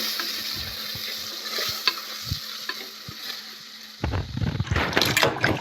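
A spoon stirring chilli powder, coriander powder and garam masala into a sizzling curry in a pan, soft scraping clicks over a steady fry hiss that turn into busier, louder scraping near the end.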